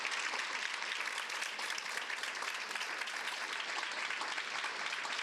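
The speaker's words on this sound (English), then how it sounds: "Please give all of them a round of applause." Steady, dense applause from a large crowd at a school district celebration ceremony, loud and continuous throughout with no pauses.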